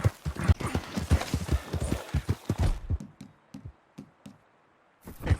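Horse hooves from the Red Dead Redemption series beat in a rapid galloping clip-clop, loud and close at first, then thinning to a few sparse, fainter hoof knocks before a final burst.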